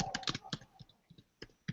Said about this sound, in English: Oh, my typing's terrible today.